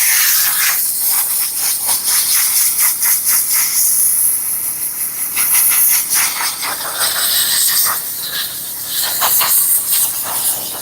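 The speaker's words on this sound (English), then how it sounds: "the first thing I want to do is I want to start steaming the material, start loosening up a lot of the skin, body oils, all of that." A steam cleaner steams the material of a car steering wheel, a loud continuous hiss with rapid pulsing bursts and spray surges that rise and fall through the whole stretch, heard alone.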